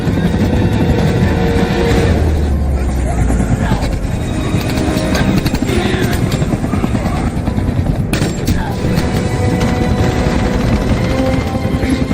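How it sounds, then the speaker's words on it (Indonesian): A helicopter arrives in a zombie film about a deadly virus, its rotor and engine a loud, steady roar running under a dense, busy film soundtrack throughout. "Di saat Gary sampai di lantai atas, lalu helikopter yang dikirim Terry datang dan membawa Gary keluarga pergi dari tempat itu."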